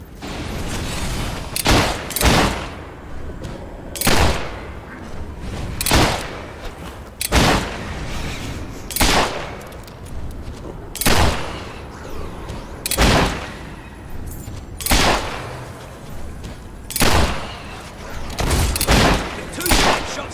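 Heavy gunshots boom at regular intervals in Fable III, roughly a dozen loud, sharp blasts spaced a second or two apart, each with a short echoing tail over quieter battle ambience.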